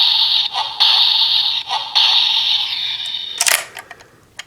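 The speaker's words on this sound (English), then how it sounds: "you can get a basic attacking sound for the police baton mode" Toy Patranger Keibou police baton from a Kaitou Sentai Lupinranger VS Keisatsu Sentai Patranger line, playing an electronic attack sound effect: bright pulsing synthetic tones ending in a sharp burst and a few clicks, loud and close.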